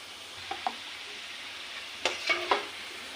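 Momos deep frying in hot oil give a faint, steady sizzle with a few soft scraping stirs near the start and a cluster of sharper spatula clinks and pops toward the end.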